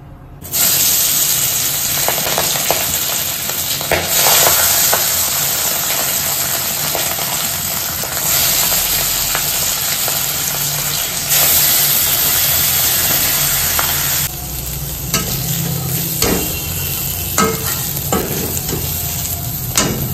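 Steady, loud sizzling of fish frying in a hot pan, with occasional stirring and scraping sounds throughout.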